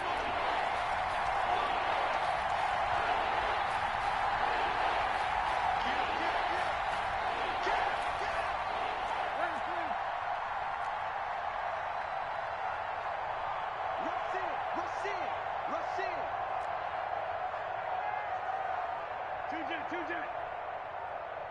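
Stadium crowd at an NFL game between the Saints and Panthers, a steady loud roar of cheering building ahead of a third down, continuous throughout with a voice talking over it.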